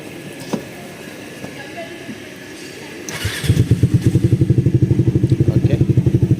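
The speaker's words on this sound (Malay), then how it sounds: "Ok, jom kita try cold start lah." A WMoto ES250i motorcycle, upgraded to 278cc, cranks and catches on a cold start, then settles into a loud, steady, rapid thumping idle close by after a few quiet seconds of background noise and speech.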